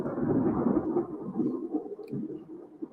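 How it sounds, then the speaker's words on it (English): Low, continuous rumbling of thunder from an outdoor lightning storm, a faint, distant roll that swells and fades without any voices. "there's some lightning going on right now"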